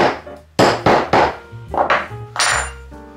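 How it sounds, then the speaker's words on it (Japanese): A DIY leather knife case for an Opinel knife gets its stitching holes punched with several sharp, hard whacks and taps at an uneven rhythm, loud and close, with no talk. "もうなんかそれっぽい感じで穴を開けていきます"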